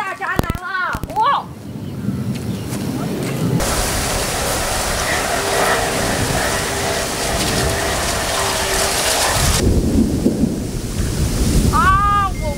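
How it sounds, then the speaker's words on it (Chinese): Thunder rumbles through a rainy thunderstorm at a fishing pond, a long loud roll that fills the middle of the clip, framed by brief voices at the start and end. "打雷了，雷打渣男了！"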